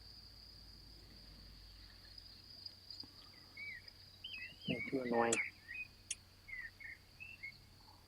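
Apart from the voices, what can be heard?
crickets chirping outdoors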